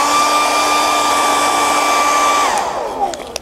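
A hair dryer blowing on contact cement spread on leather, a loud steady whine and rushing air at close range that winds down near the end, followed by a few small knocks.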